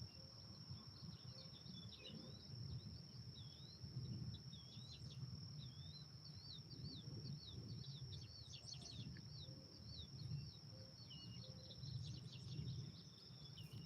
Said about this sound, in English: Probably hear the damn birds more than you do me.